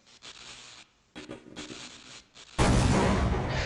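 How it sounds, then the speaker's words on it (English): In Half-Life, a few quiet clicks and scrapes are followed by a grenade going off, a sudden loud blast whose roar holds steady to the end. "so we can throw a grenade"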